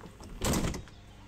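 A Slovak passenger train door slides shut at a station, a single short thud and rattle of the closing panel, close and fairly loud, with no talking.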